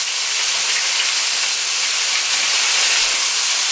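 Garlic hits a hot pan for Jamaican brown stew fish, giving a loud, bright, continuous hissing sizzle that stays even for a few seconds without any talk.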